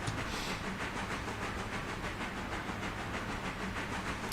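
Locomotive engine running in Railroader, a steady chuffing steam-like rhythm with continuous hiss and rumble, loud and even throughout, no talking.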